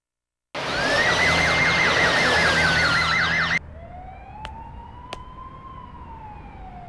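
Police car sirens in a PS2 video game street scene: a loud wailing siren sweeps up and down for about three seconds, then drops to a fainter single siren fading into the distance with a couple of sharp clicks.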